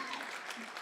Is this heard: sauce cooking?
no